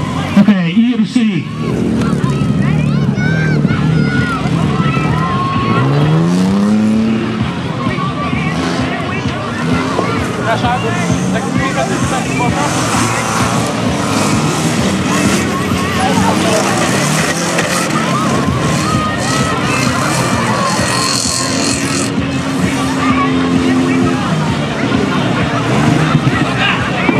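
Rally cars in a demolition-style rally at Biała Podlaska setting off and racing, with engine drone and revving sweeping up in pitch, loud and continuous under constant crowd chatter.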